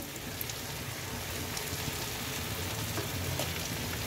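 Chicken pieces simmer and fry in a pan while being stirred, giving a steady close sizzle like soft rain that runs for the whole stretch with no talking.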